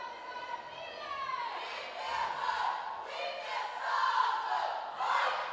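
Students cheering for their school at an opening ceremony, a crowd of young voices shouting and whooping together in swelling waves, moderately loud and somewhat distant in a large hall.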